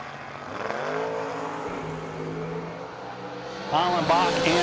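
A 1969 Camaro and a 2014 factory stock COPO Camaro launch off the line at a no-box drag race, engines roaring loudly and climbing as they accelerate, with a sharper rising whine near the end.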